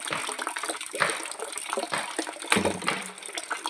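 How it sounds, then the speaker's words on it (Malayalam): Water gushes and splashes unevenly from a pump pipe filling a tank, a close, churning rush with irregular surges and no voices. "ടാങ്കിൽ വെള്ളം പോകുന്നു"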